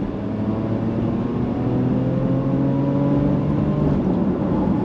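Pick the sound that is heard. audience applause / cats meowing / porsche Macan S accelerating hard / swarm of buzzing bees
porsche Macan S accelerating hard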